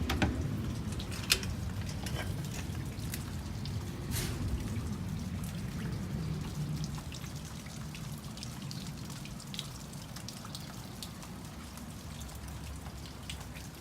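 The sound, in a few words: rain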